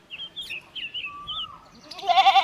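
A goat on a farm bleats in a wavering, nasal call near the end, preceded by high chirping and calls at moderate loudness with no talk.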